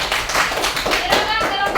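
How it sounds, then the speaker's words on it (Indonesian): A classroom group gives applause to a student group after their presentation, a burst of close, steady hand clapping lasting under two seconds with children's voices faintly mixed in. "Tepuk tangan untuk kelompok 2."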